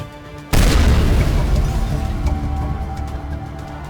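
A loud explosion in the Mass Effect video game bursts in suddenly and then rumbles and crackles away for several seconds, with no voices over it.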